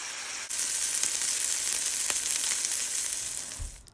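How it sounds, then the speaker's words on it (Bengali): Chicken pieces mixed with spices, some of them soy sauce, fry in a little oil in a pan, a steady broadband sizzle that holds evenly for several seconds before fading out, with no talking. "তারপর চিকেনটাকে মশলাগুলোর সাথে ভালোভাবে মিক্সড করে হালকা তেলে ভেজে নিব।"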